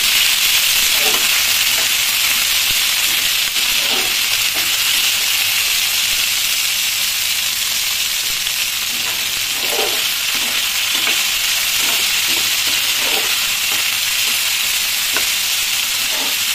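Ivy gourd (kovakkai) pieces fry in oil with a constant close sizzle and hiss, while a spoon stirs and scrapes the pan in a string of irregular clicks and scuffs.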